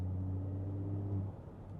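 BMW X5 45e with a tuned engine and deleted particulate filter, its warm exhaust giving a low, steady rumble at low revs, holding evenly before easing off near the end.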